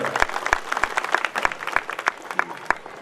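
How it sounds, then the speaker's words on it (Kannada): Loud audience applause at a Kannada memorial ceremony for a revered swami, dense steady clapping with sharp individual claps standing out, running the full length without speech. "ಫೈಸಲ್ ಅವರಿಗೆ ತಮ್ಮೆಲ್ಲರೂ ಮತ್ತೊಂದು ಜೋರಾದ ಚಪ್ಪಾಳೆ"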